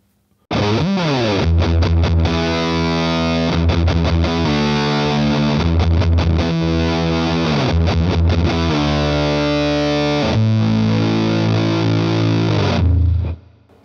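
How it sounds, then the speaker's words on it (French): Heavy, thick electric guitar fuzz played through a Kelt Amplification Bobcat amp with reverb, loud sustained riffs and chord changes ringing continuously, then stopping abruptly at the end. "l'idée, encore une fois, c'est aussi de tester la fuzz"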